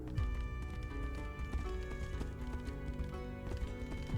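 Horse hooves clip-clop steadily in the Tainted Grail: The Fall of Avalon video game, a continuous rhythmic trot under a layer of game music and ambience.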